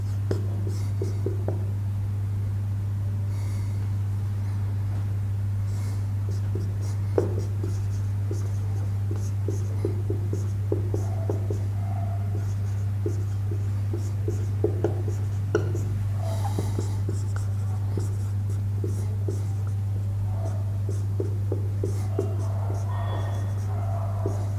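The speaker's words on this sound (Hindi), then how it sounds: "अब मैं बोलूंगा नहीं लिख दूंगा शायद डायरेक्ट" Chalk or marker taps and scratches across a board in short irregular strokes during a physics lesson on work, energy and power, with soft whispery sounds and a steady low electrical hum throughout.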